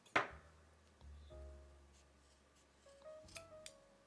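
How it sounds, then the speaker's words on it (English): Scissors make a crisp single snip through basket filler cord near the start, followed by faint handling rustles and a couple of small clicks in an otherwise quiet room. "get your filler cord and go ahead and cut it at a slight angle"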